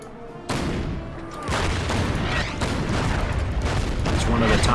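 Artillery fire on infantry in the Order of Battle wargame, set at Tobruk in a sandstorm: a dense run of booming blasts and rattling fire that builds and stays loud throughout.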